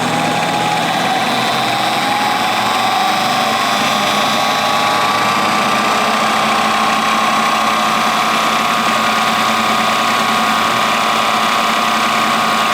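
A small engine on a test run after a Sun SDT upgrade, revved up to about 2,000 RPM, holds a steady, loud, continuous drone with a high whine throughout, with no talking.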